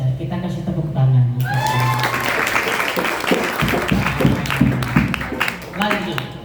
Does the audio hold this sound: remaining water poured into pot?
no